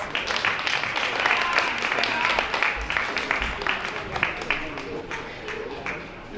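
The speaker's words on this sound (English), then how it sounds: "Please give him a round of applause." An audience at a Black History Month celebration claps steadily, a dense patter of hands that holds at an even level for several seconds before tapering slightly, with murmured voices mixed beneath.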